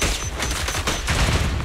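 Rapid continuous gunfire rattles in the video game Zenless Zone Zero, a dense, loud burst of shots with no pauses throughout, with no voices over it.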